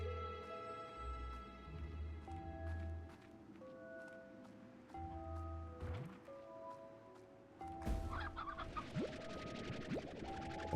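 Chickens in the video game Slime Rancher cluck in short, soft, pitched bursts over a steady ambient music bed, several birds overlapping with no voices.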